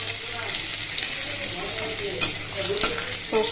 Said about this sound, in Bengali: এবার আমি দিয়ে দিচ্ছি থেতো করা রসুন